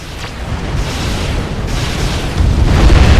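An enemy commander unit blowing up in Supreme Commander: Forged Alliance, a loud, sustained rumbling explosion that swells into a deep boom toward the end, with no talk over it.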